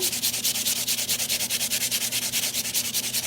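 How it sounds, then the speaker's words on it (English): Steady rhythmic sanding of a painted wood plaque, a rapid back-and-forth scratchy rasp repeating about eight times a second, close and continuous with no talking. "we're going to sand it"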